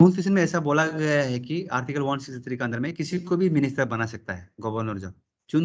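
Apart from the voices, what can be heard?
None of the usual background noises is heard.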